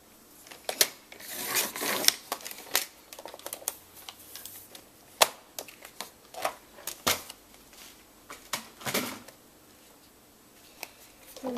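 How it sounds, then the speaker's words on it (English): Paper trimmer slicing excess paper off a pirate-themed card: a string of quiet, sharp clicks and sliding scrapes with short pauses between them, close by. "I'm going to take my trimmer and trim off that excess"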